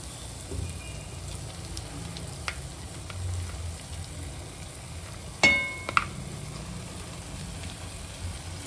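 Mashed potato masala sizzles quietly in oil in a pan, giving a steady soft hiss with a few sharp clinks of stirring midway.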